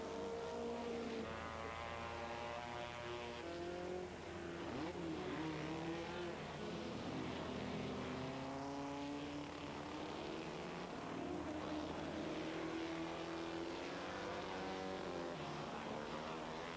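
Historic race cars, including a Lotus, lap the Montlhéry circuit at speeds above 200 km/h. Several engine notes rise and fall in overlapping sweeps, with a loud, continuous roar throughout and no talking.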